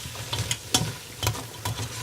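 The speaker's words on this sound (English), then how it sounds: "let that cook for just about 2-3 minutes with the meat in it" Beef and vegetables with garlic cooking in a pot for a beef stew, with a steady low sizzle and several sharp scraping stirs spaced through it, close up and without talk.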